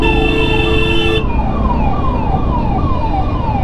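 A loud ambulance siren wails in a repeating falling sweep, close by, stuck in a steady rumble of traffic in India.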